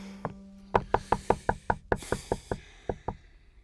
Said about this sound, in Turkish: Kapıyı çalacaktım değil mi?